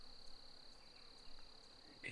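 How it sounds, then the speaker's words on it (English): A steady, faint insect drone, like crickets or buzzing flies and bees, hums on a bush track at a shelter, with quiet outdoor air behind it and no clear birdsong. "The bird chirping, and the pesky flies buzzing. You can hear the bees going too."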